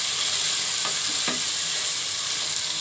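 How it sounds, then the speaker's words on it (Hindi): Potatoes sizzle in hot oil in a pan for halwai-style puri chole, a steady close frying hiss with a couple of soft stirring scrapes and no voices. "आलू डाल के भी हमने 2 मिनट इसको"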